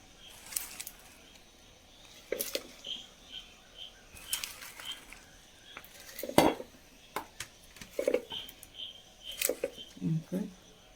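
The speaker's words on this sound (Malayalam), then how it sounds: "അപ്പം നമ്മുടെ വാഴയില അരിഞ്ഞത് നമുക്ക് മിക്സിയുടെ ജാറിലേക്ക് ഇട്ട് കൊടുക്കാം." Chopped banana leaf goes into a mixer jar for banana leaf halwa: a series of short, light rustling clatters and knocks against the jar, spaced apart, with a voice speaking between them.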